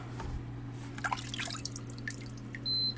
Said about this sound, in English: So if I pull this out of the water right now